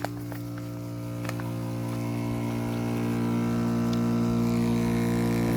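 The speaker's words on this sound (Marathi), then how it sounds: "चार्जिंगचा पंप" An electric charging pump feeding a sprinkler system runs with a steady, loud mechanical hum that holds constant and swells slightly, with faint clicks near the start.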